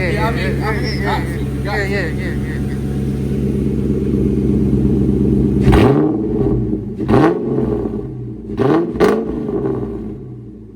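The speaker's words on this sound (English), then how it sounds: "as y'all can tell, the Mustang is finally running right now" A 2004 Mustang GT V8 running after a fuel pump install, rumbling steadily up close and then revved in several sharp bursts, with someone talking over it.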